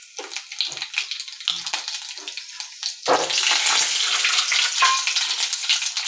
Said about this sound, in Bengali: তেলটা ছিটে আসছে